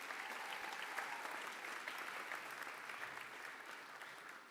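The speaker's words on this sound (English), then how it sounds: "another round of applause for Kate, please." Sustained audience applause at a school awards ceremony, a broad, even roar of many hands clapping at once, fairly distant and unbroken from start to finish.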